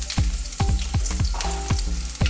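Garlic, ginger and chili frying in oil in a hot wok for a vegetable stir fry, a loud constant sizzle broken by repeated sharp scraping stirs at a quick, regular rhythm.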